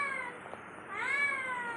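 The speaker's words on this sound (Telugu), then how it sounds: "చూడండి పిల్లి చూడండి ఎలా అరుస్తుందో." A house cat meows twice in a kitchen, the second call drawn out, rising and louder, close to the listener and with no talk over it.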